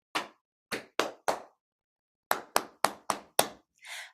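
A teacher leads a children's music-room rhythm game of alternating pats and claps: four sharp hand strikes, a pause, then six evenly spaced strikes and a softer, hissier final slap, close and clear with no talk.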